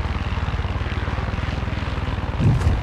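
A helicopter in the video game Far Cry 6 gives off a loud, close, steady rotor thrum with fast rhythmic beating, swelling slightly near the end.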